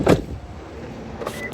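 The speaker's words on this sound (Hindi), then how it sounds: "देखो मैं गाड़ी भूल गया था लॉक करना" A car locking: a brief loud click-thunk of the lock at the start, followed by quiet street ambience and a faint short chirp near the end, with no one talking.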